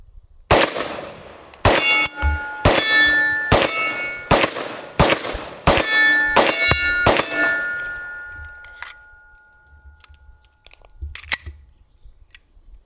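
A Palmetto State Armory PSA AKV rifle fires about eight sharp, ringing shots at a quick, slightly uneven pace. A few fainter metallic clinks follow after the firing stops.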